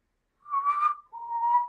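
A person whistles in imitation of Omar's signature whistle from The Wire, two clear melodic phrases, the first rising and wavering, the second a steadier held note, close and alone with no talking.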